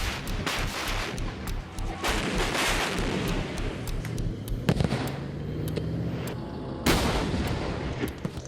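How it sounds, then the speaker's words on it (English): Gunshot sounds broadcast at night as North Korean psychological warfare crackle in rapid, irregular bursts of sharp reports, some distant and some louder, with a low drone underneath. "living through nights dominated by the sounds of gunshots, anguished cries, and chilling and distorted music"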